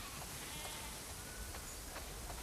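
Sheep bleating in The Last of Us Part II, a few faint, short bleats spread over steady background noise in a farm setting.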